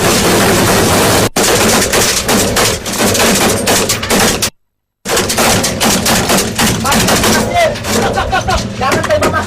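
Gunfire from an armed clash in Aceh, with dense, rapid automatic bursts and sharp shots crackling continuously, loud and close, broken by one brief silent gap, while people shout and talk over the shooting.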